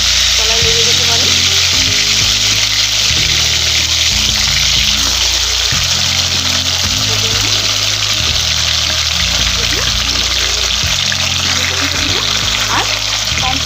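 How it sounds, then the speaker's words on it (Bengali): Cauliflower florets with cashews fry in a pan over a medium-to-low flame for Gondhoraj fulkopi, a dense, continuous close sizzle under a rhythmic low musical backing. "শুধু ফুলকপিগুলিকে এইভাবে দিয়ে ভেজে নেব।"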